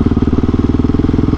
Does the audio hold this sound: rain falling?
no